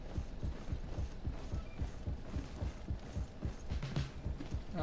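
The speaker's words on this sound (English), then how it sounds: "Why do I hear a heartbeat?" A steady, throbbing heartbeat in the video game GreedFall thumps in a regular low rhythm for several seconds, moderately quiet and with no voices over it.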